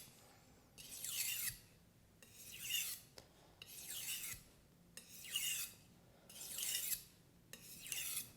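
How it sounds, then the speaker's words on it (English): A knife is polished on a whetstone in six quiet, even rasping strokes, each about a second long and separated by short pauses, heard up close with no voices. "you want to polish the knife."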